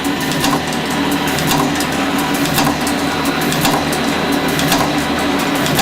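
A Swigraph Hangymatic machine runs steadily and loudly up close, with a continuous mechanical clatter and a regular ticking rhythm that never lets up.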